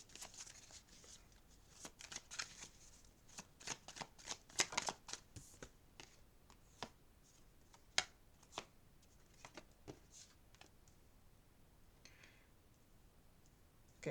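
Tarot cards being shuffled close up, a quiet series of crisp riffling bursts and soft taps with brief pauses between them, no voices.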